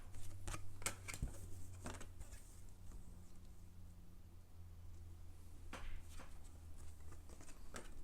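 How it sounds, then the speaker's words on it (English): Tarot cards laid out on a table for a reading, several soft slaps and flicks spread across a quiet room with no talk. "let's lay out these cards here and see what is going on."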